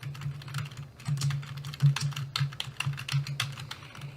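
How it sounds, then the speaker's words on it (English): Keys on a computer keyboard clatter in quick, uneven bursts as search terms are typed into a library database search box, close and steady throughout with no speech. "I'll type them into my search box"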